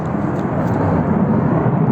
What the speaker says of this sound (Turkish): Arkadaşlar uçak uçuyor.